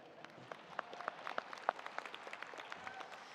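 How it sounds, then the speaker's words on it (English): A small group claps briefly at a high school graduation ceremony, quiet and somewhat distant, with scattered sharp hand claps over a soft background hum. "That's a clap right there"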